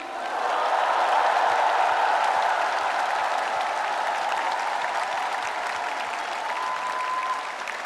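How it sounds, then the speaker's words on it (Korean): A large audience at a party convention breaks into sustained, loud applause that holds steady for several seconds without a break. "우리 두 분 후보님께 뜨거운 격려의 박수를 부탁드립니다."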